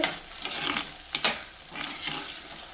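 Okra sizzles and hisses in a hot pan, with a few scraping stirs of a spatula, close and steady.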